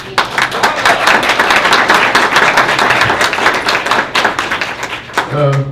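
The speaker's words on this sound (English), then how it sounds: "you guys deserve a big round of applause" Audience applause at a city council meeting, a dense burst of many hands clapping that fills the room for several seconds, close and loud, with some voices mixed in before it fades.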